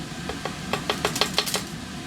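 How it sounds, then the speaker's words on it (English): A few boiling chips drop into about 75 ml of distilled water in laboratory glassware, giving a quick run of seven or eight small clinks and ticks, close and fairly soft. "We're then going to add a couple boiling chips, not many, just a few."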